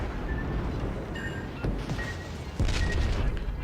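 A torpedo detonating against a ship in World of Warships Legends, with a muffled boom landing over a steady rumble of engine and sea noise, followed by a louder impact late on.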